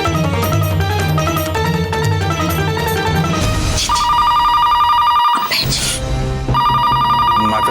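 A telephone rings amid busy background music, its tone cutting in and out through the clip.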